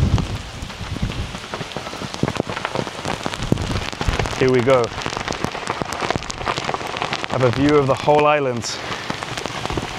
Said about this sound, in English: this island is you get soaked if you get caught in the rain